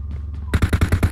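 Automatic gunfire in the mobile shooter PUBG Mobile, a rapid burst of about eight loud, evenly spaced shots that starts abruptly after a quiet moment.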